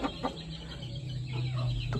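A rooster kept with a pigeon pair clucks in short, close bursts against steady low background noise, with no talk.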